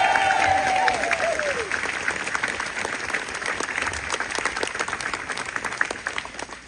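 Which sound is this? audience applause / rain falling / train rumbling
audience applause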